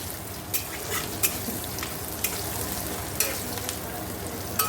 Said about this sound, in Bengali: এই যে এখানে পেঁয়াজ লঙ্কা দেখো ভেজে নিচ্ছি সাদা তেলে